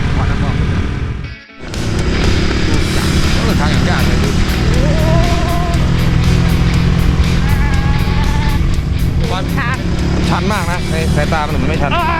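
A motorbike engine strains and revs hard while climbing a steep hill on a Laos road trip, loud and close with a brief dip early on before a sustained high-pitched roar, under constant talking voices.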